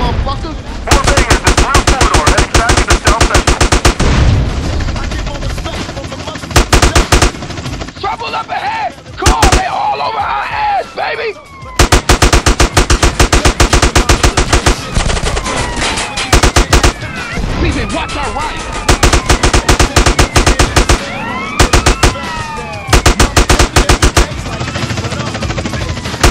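Heavy, continuous gunfire from a GTA San Andreas shootout, with rapid automatic bursts and loud blasts filling almost the whole stretch, broken by short lulls, while voices shout over the battle.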